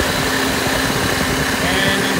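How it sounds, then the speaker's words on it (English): A Honda Civic engine idles steadily with its AC compressor spinning, a close, continuous, even running hum with no pauses and no talking. "you can see there's the compressor, it is actually spinning, so that's a good sign"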